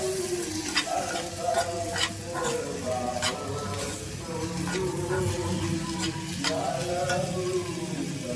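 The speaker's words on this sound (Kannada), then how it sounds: "ಇದು ಫ್ರೈ ಆಗ್ತಾ ಇರಲಿ" Masala frying in a pan as the base for a gravy, a continuous close sizzle with soft scrapes and stirring taps throughout, and no talk.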